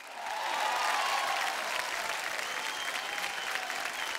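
An awards show audience in Malaysia breaks into loud, dense applause that swells quickly and holds steady for several seconds as a broad crowd roar of clapping.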